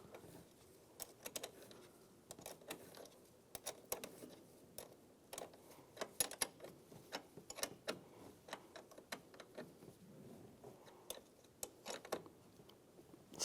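A battery terminal is tightened on a Ram 1500, giving faint, close ticks and small ratcheting clicks in irregular bursts against a quiet background.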